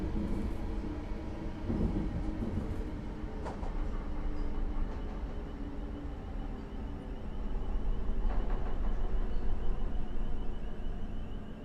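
A train running in Train Sim World 4 near Preston Park station: a continuous low rumble of wheels on rails with rising and falling rolling noise and faint squeals, steady throughout with no talk.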